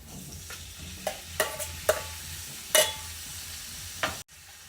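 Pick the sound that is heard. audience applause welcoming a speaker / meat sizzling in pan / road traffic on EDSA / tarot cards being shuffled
meat sizzling in pan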